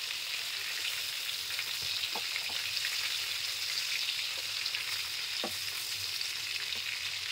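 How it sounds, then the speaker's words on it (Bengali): Prawns fry in oil over a medium flame, a steady, fairly quiet sizzle with a few light clicks from stirring and no one speaking. "চিংড়ি মাছগুলো একটু ভেজে নিতে হবে।"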